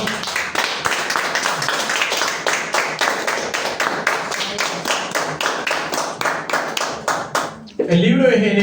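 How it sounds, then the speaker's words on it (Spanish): A church congregation claps in a steady, even rhythm for several seconds, many hands together at a brisk beat, before a voice speaks up loudly at the end. "Denle un aplauso al Señor."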